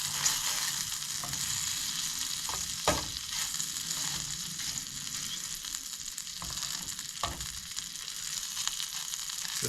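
Meat sizzles steadily in melted butter in a pan, seasoned with Kinder's, with a constant close hiss of frying and a few soft clicks and scrapes from stirring. No one speaks.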